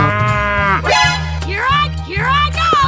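A cartoon cow moos in a 3D animal slide video game, a few drawn-out, pitch-bending calls over a steady game music bed, close and loud.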